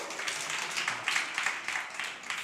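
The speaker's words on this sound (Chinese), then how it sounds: "给掌声鼓励一下。" A small group at a Saturday church service gives a brief round of applause, with soft, fairly distant clapping pulsing in quick bursts.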